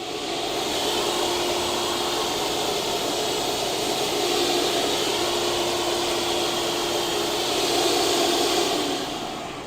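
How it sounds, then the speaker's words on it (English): A Pullman Holt commercial mold remediation vacuum runs steadily inside a greenhouse, a loud continuous whooshing roar with a constant motor whine that fades slightly at the very end. "I have a Pullman Holt commercial mold remediation vacuum"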